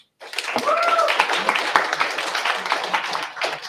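An audience applauds the startups at the close of a livestreamed pitch event, a dense steady patter of clapping with a faint voice heard briefly early on.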